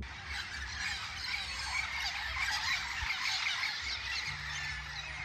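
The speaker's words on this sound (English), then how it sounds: "we're sitting there in this tiny wooden boat, and then you can just hear these birds" A dense, continuous chorus of shrill wild bird calls in Guyana, heard from a small wooden boat, fills the air, steady and loud, with a faint low hum underneath and no talking.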